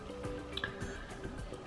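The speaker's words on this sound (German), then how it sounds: "Und lass den Saft da reinrinnen" Squeezed lemon juice drips and trickles into a bowl in a faint, close series of small wet drops and squishes, scattered irregularly over a quiet background.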